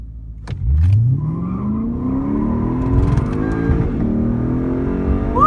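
A Chevrolet Camaro ZL1 accelerates hard nearby, its engine revving up in a loud, rising sweep that climbs through the gears and holds strong to the end.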